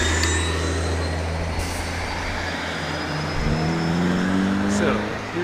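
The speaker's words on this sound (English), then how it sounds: "So, here you have cars turning right." Cars turn at an intersection in Lawrence, heard as a steady engine and tire drone with a rising engine tone toward the end, while a person talks over it.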